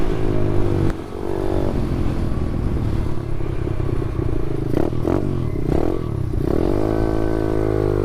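An SSR pit bike motorcycle rides along a ditch in high gear, with a loud, close engine drone that revs up and down in rising and falling sweeps, along with rattling clatter from the ride.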